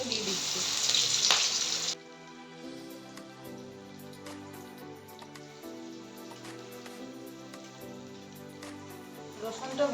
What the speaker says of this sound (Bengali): সেই থেতো করা রসুনটাকে দিয়ে দিচ্ছি